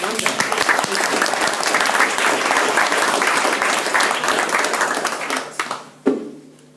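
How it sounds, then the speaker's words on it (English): Sustained applause from a crowd at a VR meetup in Brighton, dense steady clapping that fades out near the end, followed by a brief close knock. "Round of applause for Jonathan."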